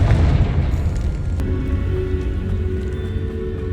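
A Confringo blasting spell explodes in the Hogwarts Legacy video game with a deep boom at the start, then a sharp crack and a long rumbling, crackling tail that settles into steady low noise.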